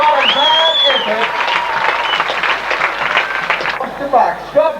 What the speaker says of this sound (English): How about a big round of applause for the young man?